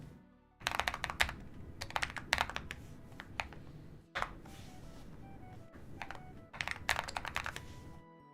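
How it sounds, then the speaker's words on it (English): A mechanical keyboard with KTT King White switches is typed on in quick clacking bursts, close and crisp, separated by short pauses, with no talking. "My keyboard sounds good. What switches? KTT King White."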